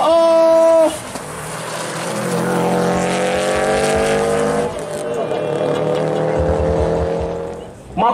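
Subaru STI drag race car at a drag racing event, engine loud and close, rising in pitch through a long acceleration with a brief engine drop partway, crowd noise around it.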